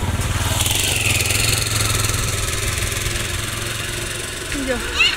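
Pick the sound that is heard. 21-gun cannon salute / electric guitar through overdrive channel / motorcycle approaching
motorcycle approaching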